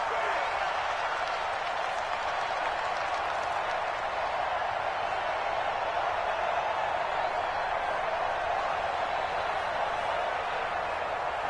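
A stadium crowd at Arrowhead roars after a sack in a football video game, a steady, wide wash of cheering and clapping that holds evenly for the whole stretch with no voices standing out.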